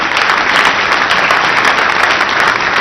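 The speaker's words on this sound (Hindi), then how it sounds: "मैं चाहूंगा जोरदार तालियों से स्वागत कीजिए" A studio audience gives loud, steady applause to welcome Union minister Piyush Goyal at a televised interview event, dense clapping throughout with no talk over it.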